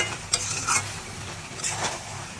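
Vegetable curry thickened with cornflour, stirred and cooked in a pot: a soft bubbling sizzle under a few scraping spoon strokes, brief and close, no voices.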